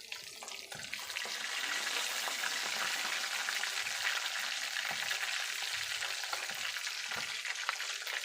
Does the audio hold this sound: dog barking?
no